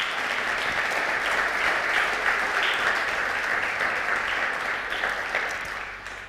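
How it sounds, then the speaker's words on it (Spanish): Church congregation breaking into sustained applause, a dense steady wash of many hands clapping that holds evenly and tapers slightly at the end. "¿Cuánto le pueden dar un aplauso al Señor?"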